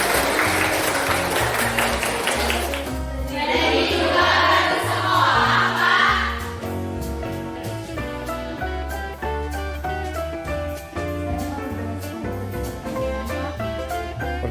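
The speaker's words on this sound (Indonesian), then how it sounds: "Tepuk tangan." Classroom audience clapping for a student at a school session, a burst of hands over the first several seconds that then gives way to music for the rest of the clip.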